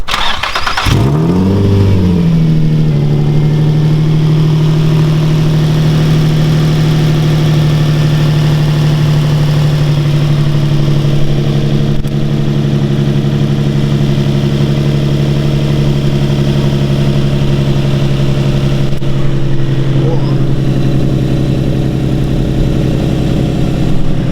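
An Infiniti G35 engine idles steadily and loudly after an oil cooler install, starting up at the beginning and settling into a constant low hum with no talking.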